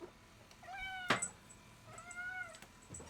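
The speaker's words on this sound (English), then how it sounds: "My cat decided to get on camera." A house cat meows twice nearby, two drawn-out rising-and-falling cries a second apart, with a brief sharp knock between them against a quiet indoor background.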